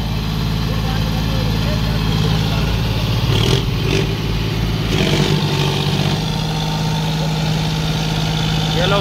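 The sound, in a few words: two John Deere 5036 tractor engines running in race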